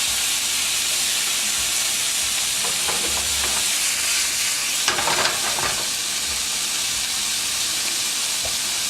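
Cut-up pork sautéing in a pan over caramelized vegetables, a loud steady sizzle with a burst of spattering and stirring scrapes midway.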